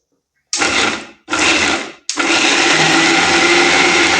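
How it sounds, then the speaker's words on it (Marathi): A blender grinds peanuts with a little water, starting in two short loud bursts. After a brief pause it runs continuously as a harsh, close, steady whir. "शेंगदाणे दळतानाच थोडंसं पाणी ऍड करून दळून घ्यायचं"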